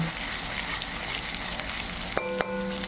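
Spices sizzle steadily in hot oil beside a pomfret fish in the pan, a continuous close frying hiss with a couple of sharp clinks near the end.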